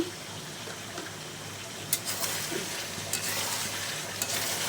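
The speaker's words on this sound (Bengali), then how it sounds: "আবার একটু মাংসটা নেড়ে দেই" Chicken pieces fry in spices while being stirred in a pan. A continuous loud sizzle runs under intermittent scraping strokes and a few brighter clinks, with no voices.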